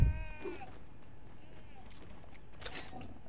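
A voice imitates a cat's meow during a Fortnite match: one short, close, wavering meow near the start, then a quieter mix of game sounds and faint voices.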